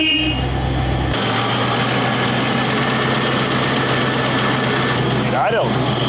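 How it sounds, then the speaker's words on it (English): Range Rover Classic engine idling roughly nearby, a steady loud rumble with a low thumping pulse that shifts partway through, with people talking over it. "So as you heard, it idles a little bit roughly."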